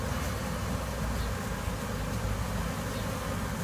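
A honeybee swarm clustered inside a car drones with a dense, steady buzz close by, continuous and unbroken, with no voices.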